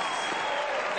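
Tennis crowd at a 2019 Charleston second-round women's match applauding after a point, a steady dense wash of clapping filling the short moment with no break.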